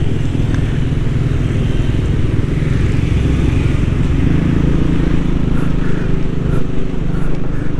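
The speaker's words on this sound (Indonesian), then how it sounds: "Becaknya sekarang di Jogja becak motor ya teman-teman" Motorized pedicabs and motorcycles stream through busy street traffic in Yogyakarta, a continuous loud engine drone with rumbling low tones and passing vehicles nearby throughout.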